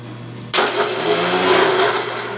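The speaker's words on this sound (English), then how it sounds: "That's the starter." A VW 1600 dual port engine turns over on its starter motor and fires into a steady, loud running roar close by, with no one speaking.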